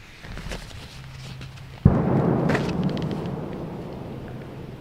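A single sharp gunshot cracks out in the distance partway through, its rumble rolling and fading slowly against a quiet outdoor night background at a campsite.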